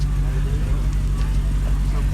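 A car rolls up at an informal car show in South Carolina with a loud, steady low engine rumble that stays close throughout. Voices murmur faintly in the background.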